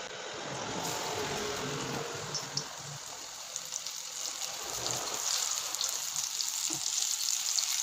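Anchovy fish bajji fries in hot oil, a close, continuous bubbling sizzle with soft crackles that grows slightly louder toward the end.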